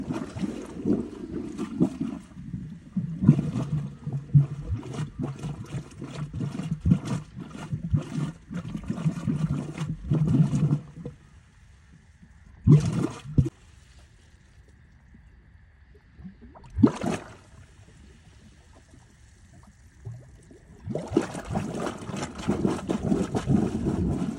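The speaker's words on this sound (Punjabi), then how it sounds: "ਬਾਈ ਮੋਟਰ ਚੱਲ ਗਈ ਆਵਾਜ਼ ਆਉਣ ਲੱਗ ਗਈ ਤੇ ਪਾਣੀ ਆਉਣ ਦੀ ਤਿਆਰੀ ਆ" Irrigation water pump motor in a wheat field, a rough, rumbling drone that pulses and surges for about ten seconds, falls quiet with a few isolated thumps, then starts up again loudly at the end.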